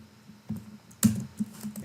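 Someone types on a computer keyboard during an Excel plotting session, a few sparse key taps with one sharper strike in the middle, close and fairly quiet.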